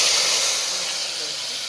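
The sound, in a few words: tempering sizzling in a pot with asafoetida and chopped tomatoes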